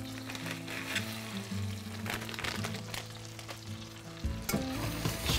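Brown sugar being stirred into melted butter in a pan for caramel sauce, a steady close sizzle with scraping spoon strokes and a low hum, continuous for several seconds with no talking.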